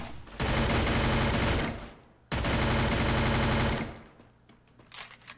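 Automatic gunfire in Free Fire, two long sustained bursts of rapid shots, loud and close, with a short gap between them, followed by quieter scattered sounds.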